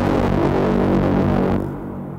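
A low, heavy electric guitar drone, distorted straight into the board with heavy effects, sustains with a throbbing buzz, then drops away and fades near the end.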